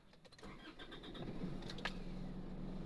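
An Isuzu D-Max pickup engine is started, with a brief key jingle and starter crank before the engine catches and settles into a steady idle nearby.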